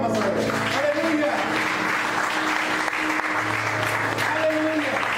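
Church congregation giving a sustained round of applause as an offering of praise, a steady dense wash of clapping throughout with voices mixed in underneath.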